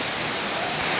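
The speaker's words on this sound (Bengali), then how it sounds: "দীর্ঘ 3 ঘন্টা যাবৎ একটানা বৃষ্টি হচ্ছে" Heavy, continuous rain pours down in a storm in Khulna, a dense, steady hiss of drops striking surfaces that stays loud and unbroken throughout.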